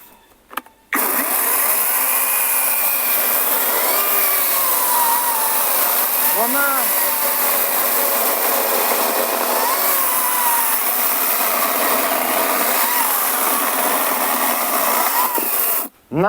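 A Grosser GCS 160 cordless saw runs in automatic speed mode, a loud continuous whine that starts abruptly, holds steady for about fifteen seconds with slight pitch wavers as it bites into wood, then cuts off.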